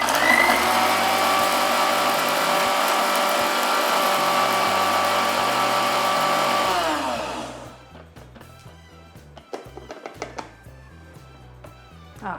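A mixer grinder whirs loudly and steadily for about seven seconds while grinding ingredients into powder, then winds down, followed by light clicks and rattles of the jar.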